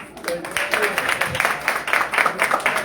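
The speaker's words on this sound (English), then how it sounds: "Give him a round of applause." An audience applauds the Labor Commissioner at a Georgia gathering: a steady stretch of many hands clapping, fairly close, with soft crowd murmur underneath.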